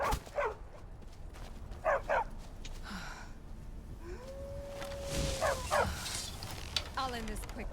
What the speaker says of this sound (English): There's a stray dog.